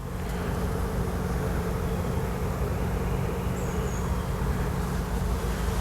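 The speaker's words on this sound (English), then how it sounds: "And there's the bees. Quite a few outside waiting to get in." A swarm of honeybees hums outside a hive in a dense, continuous buzz that stays steady and fairly loud throughout, with no voices.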